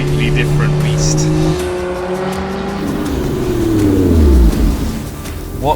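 A 2021 Lotus Emira sports car on a road, with engine tones rising and falling through the run, a steady near drone and a pitch sweep as it accelerates; talk is heard over the engine.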